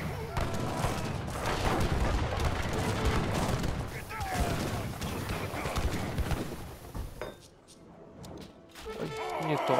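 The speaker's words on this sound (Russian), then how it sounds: "У нас пушки сзади наяривают." Repeated booming cannon shots and bursts of gunfire in a busy Age of Empires 3 Definitive Edition battle, loud and continuous, with a brief lull before firing resumes.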